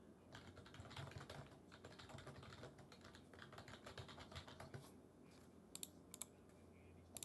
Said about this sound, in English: I'm typing this out right now just so